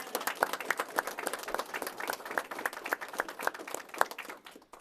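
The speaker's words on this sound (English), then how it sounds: "Another round of applause for them." A crowd gives a round of dense, steady applause, with many hands clapping at a moderate distance. The clapping thins slightly toward the end.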